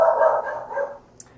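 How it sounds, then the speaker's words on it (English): A dog barks near and loud in a home where yarn is being dyed, a short run of a few close barks that fades out, with a brief faint yip at the end. "So sorry about the dog."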